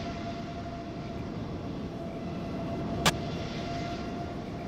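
A constant low jet roar comes from airliner traffic in Microsoft Flight Simulator at Santos Dumont airport, steady and fairly distant, with one brief sharp click partway through and no speech.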